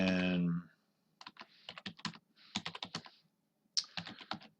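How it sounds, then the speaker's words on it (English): Quick clicking keystrokes on a computer keyboard come in short irregular bursts with brief gaps, close and clear, following a short vocal sound at the start. "I may type a question"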